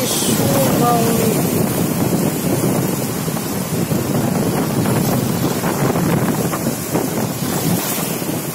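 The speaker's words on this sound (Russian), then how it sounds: "Послушайте шум волны." Ocean surf rolls onto a beach under steady wind buffeting the microphone, a continuous loud wash of breaking waves with no pause throughout.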